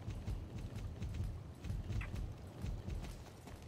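Horse hooves clip-clopping at a steady riding gait in the Star Stable online horse-riding game, a continuous rhythmic patter close up with no talking over it.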